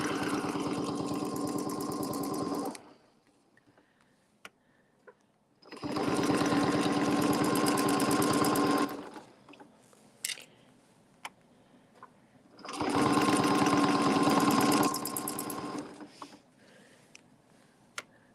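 A long-arm quilting machine stitches a scalloped outer edge in three bursts of steady, fast whirring, separated by quiet pauses with faint clicks as the fabric is rotated.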